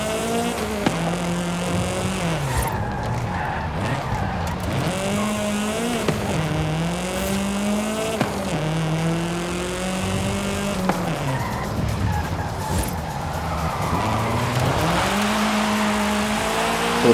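A race car in Forza Horizon 5 during a touge hill run through Guanajuato, Mexico, its engine revving and climbing through the gears with repeated shifts and drops, loud and constant, tires squealing in corners.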